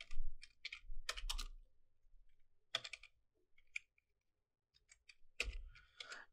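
Typing on a computer keyboard during Windows partition setup comes as short bursts of close, crisp key clicks separated by quiet gaps, with a few isolated taps.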